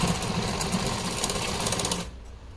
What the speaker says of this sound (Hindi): इस तरह से हम सिलाई लगा लेंगे